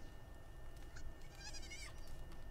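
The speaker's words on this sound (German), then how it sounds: "hier ist noch ein hungriges Schaf" Sheep in the video game Palworld bleating once, a short wavering bleat over a quiet ambient game background, preceded by a few faint clicks.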